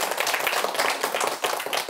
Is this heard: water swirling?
no